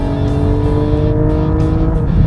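A 2020 Porsche Cayman GT4 revs its 4-liter flat-six, the engine shared with the GT3. The note is loud and close, a dense, sustained engine roar with no talking over it.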